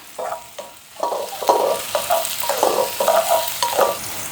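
Curry leaves and green chilli crackle and sizzle in hot oil in a pan, with repeated bursts of spattering and stirring close by, no talk.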